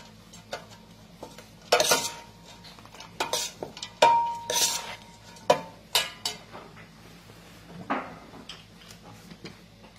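Goat blood pudding ingredients being stirred in a bowl: irregular scraping strokes and sharp clinks of a utensil against the bowl, close and fairly loud, with quiet gaps between.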